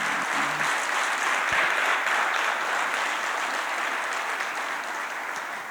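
A crowd at a leadership session applauds steadily, dense sustained clapping that stays loud and slowly tapers toward the end, with no voices over it.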